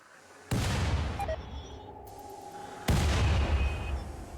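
Two heavy booming launches from a steel mortar in the colony game Rimworld, one near the start and a louder one about two seconds later, each leaving a long rumbling tail.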